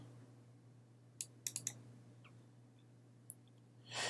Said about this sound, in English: Double-click the Uncle Scrooge folder to open it.